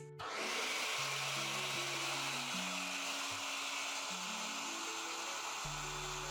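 A blender whirs loudly and continuously, blending cottage cheese bread batter with fresh lemon juice; the motor pitch shifts in steps as the load changes, close and alone without talk.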